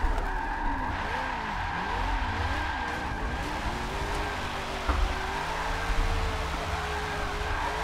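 Race car drifting in a racing video game played on a Logitech G920 wheel with NRG wheel, with a sustained engine drone and a continuous, wavering tire squeal that holds loud and steady throughout a long slide.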